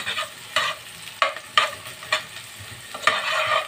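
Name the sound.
onion sautéing in a pan with ghee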